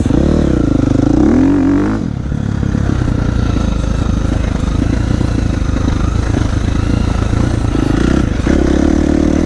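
A KTM 350 XCF four-stroke dirt bike riding a trail, its engine droning steadily close by with throttle changes near the start and end and a rattling, pulsing exhaust note throughout, with no speech.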